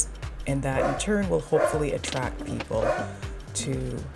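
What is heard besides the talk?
dog barking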